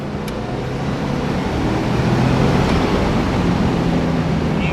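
A first-generation Subaru Impreza WRX STI with its turbocharged engine pulling under acceleration, a steady broad engine roar mixed with road and wind noise throughout, no talking.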